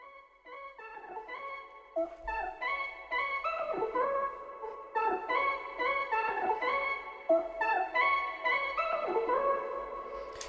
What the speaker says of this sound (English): So the first one is like this lead synth, which is a sample I found from Splice and just really messed with.